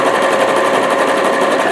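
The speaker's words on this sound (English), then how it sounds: "We're going to zigzag stitch this together." A sewing machine zigzag stitching elastic onto fabric for a cosplay costume, running in a steady, fast, close whirring chatter without pause throughout.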